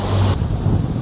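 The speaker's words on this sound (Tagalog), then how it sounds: "Ay, Lord, ang lakas naman ng hangin." Strong wind gusts buffet the microphone at a scenic mountain lookout in the Blue Mountains, a loud continuous roar that drops slightly partway through, with no talking.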